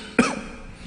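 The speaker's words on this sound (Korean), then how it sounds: "제가 기침하는 건 코로나 아니에요." A single sharp cough bursts out from a man preaching a sermon, loud and close, then fades into quiet room tone.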